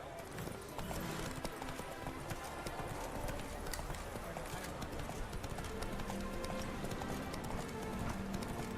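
Horse hooves gallop in The Witcher 3 video game, a rapid, continuous clip-clop at a steady loud level throughout, with no speech over it.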